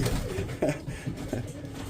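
Pigeons coo softly at close range in a few short low throaty phrases over a quiet background.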